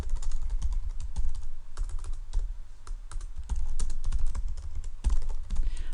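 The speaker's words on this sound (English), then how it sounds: "If I was to go ahead and type Alex at PHP" Typing on a computer keyboard, with a close, continuous patter of key clicks in uneven bursts, some strokes louder than others, and no voices.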